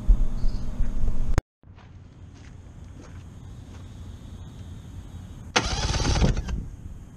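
A Mariner 40 HP two-stroke outboard boat motor, sitting unused for about 20 years, cranks over in a short loud burst, with a second whirring cranking burst near the end after a quieter stretch.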